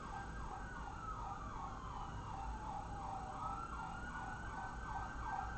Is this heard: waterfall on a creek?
no